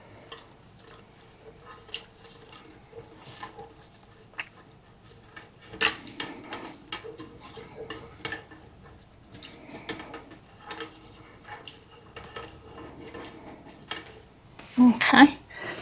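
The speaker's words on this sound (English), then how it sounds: "And I'm going to stir this up really good." A utensil clinks and scrapes around inside a bowl while stirring cherry jello, in irregular bursts, close and fairly quiet, with louder clatter near the end.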